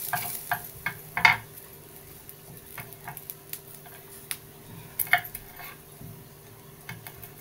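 Grated coconut dry-roasting in a pan until reddish, for a Bhogi vegetable masala, with soft scraping stirs and faint crackle scattered at an irregular pace, close and fairly quiet.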